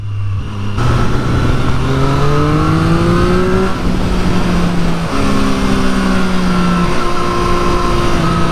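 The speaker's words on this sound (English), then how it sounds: "Listening to that gear change, it's phenomenal. It just sounds lovely to ride." A 2023 Triumph Street Triple R motorcycle engine revs up loudly through rising pitch, a quick gear change breaks the climb and it pulls on again, heard close and alone.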